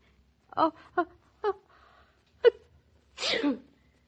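A woman in a radio drama builds toward a sneeze with several short, breathy catches and gasps, then lets out one loud sneeze at the end, close and clear against near silence.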